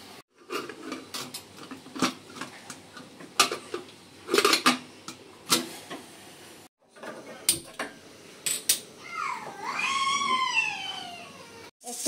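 Rising, wavering whistle of a pressure cooker boiling with turmeric powder, bursting out near the end after clinks of dishes and kitchen clatter, loud and close.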